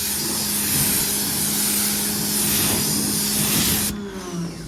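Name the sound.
rinsing a convertible car with a water spray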